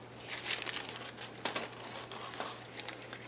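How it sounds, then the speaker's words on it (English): A poem page is ripped out of a paper sewing pattern: close, quiet crinkling and tearing of thin paper in a continuous rustle with a few sharper rips. "I'm just going to rip my poem out of my sewing pattern here"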